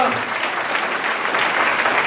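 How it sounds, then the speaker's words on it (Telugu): Congregation at a Telugu Christian worship service clapping loudly in praise, a dense steady wash of many hands sustained throughout without a break. "బిగ్గరగా చప్పట్లు కొట్టి దేవునికి స్తోత్రం చేద్దాం."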